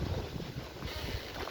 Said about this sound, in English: It's really windy today, isn't it?